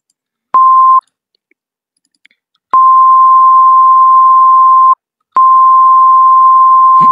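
A pure sustained test tone at a single pitch plays three times in an audio mixing session: a short burst, then two longer held notes separated by silence, each loud and clean with a click at onset.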